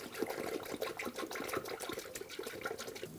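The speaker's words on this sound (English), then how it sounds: "Now I just have a funnel in the radiator and I'm just going to fill it with the" Coolant poured through a funnel into the radiator of a 2011-2018 Ram 1500, a steady close splashing, gurgling liquid flow running throughout with no talk.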